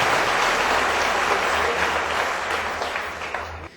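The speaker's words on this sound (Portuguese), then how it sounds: "dê um forte aplauso a Ele" Sustained applause from a church congregation at a worship program, dense and steady throughout and fading slightly toward the end, with no talk over it.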